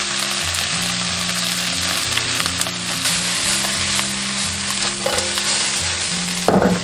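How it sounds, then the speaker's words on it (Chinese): Prawns pan-fry in a shallow layer of oil in a home kitchen, giving a steady, close sizzle and crackle throughout, with a louder clatter of turning or stirring near the end. "最好是油炸，但我们家庭做法为了省油，还是用这种煎的方式。"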